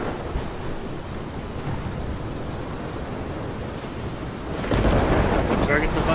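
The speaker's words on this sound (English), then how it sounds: "This is my storm." A thunderstorm in the video game Life is Strange, with heavy rain and a steady rumble that swells louder near the end as thunder builds, dense and close.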